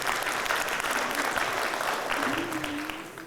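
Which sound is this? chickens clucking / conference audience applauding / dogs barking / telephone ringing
conference audience applauding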